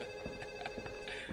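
A telephone in a homicide department office rings with a steady, continuous electronic trill that fills the whole short stretch at moderate loudness, with no voices over it.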